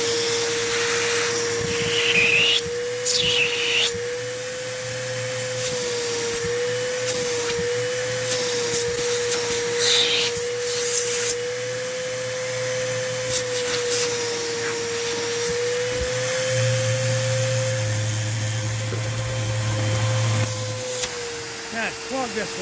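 A vacuum cleaner drones steadily and up close while it sucks up debris through a hose, its motor holding a constant whine. Rattling pickups and clunks cut through at times, and a voice speaks briefly over it.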